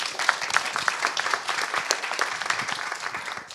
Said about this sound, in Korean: 자, 박수 한번 보내주시죠